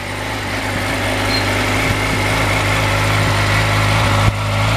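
Yamaha motorbike of about 133 horsepower with a standard exhaust, idling with a steady low rumble and faint mechanical vibration, close and continuous, with one brief bump near the end.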